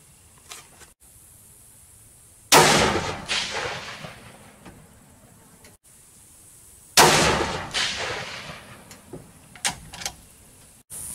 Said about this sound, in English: Now I'm gonna shoot the Winchesters.